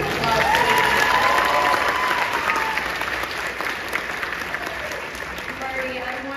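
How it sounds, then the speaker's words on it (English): Audience applause fills a room during a live panel with the Cobra Kai cast, a dense steady clapping wash that starts loud and slowly thins, with a few voices faintly underneath. "I heard some applause."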